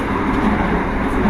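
Steady, loud rumble of riding inside the Argo Wilis passenger train between Surabaya and Jogja, a continuous broadband cabin noise with no speech.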